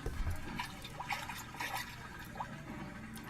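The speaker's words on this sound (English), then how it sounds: "you can hear the bubbles bubbling. But it's slow. It's a slow air leak" Small air bubbles escape slowly from a leaking raft floating in water inside a culvert tunnel, giving soft intermittent gurgling blips and drips, close but faint.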